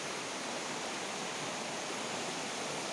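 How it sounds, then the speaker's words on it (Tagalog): A river flowing beside its bank in Mindanao, a constant broadband rush of moving water with no breaks, steady and moderately loud, with no voices. "So nandito tayo sa gilid ng ilog."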